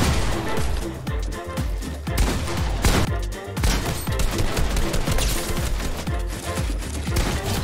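Rapid, dense bursts of gunfire from a Fortnite 1v1 build fight, loud and continuous with overlapping shots and impacts, with occasional voices underneath.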